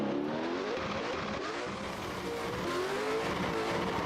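A BMW race car missing a headlight drifts in a competition at Montreal, its engine revving and wailing at a distance while tires squeal and skid, the sound rising and falling in waves throughout.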